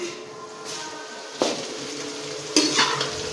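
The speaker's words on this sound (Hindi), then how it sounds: "जब तक हमारी भिंडियाँ फ्राई होती हैं" Okra (bhindi) fries in a pan with a gentle steady sizzle, broken by two sharp clanks of a utensil against the pan, close by with no talking.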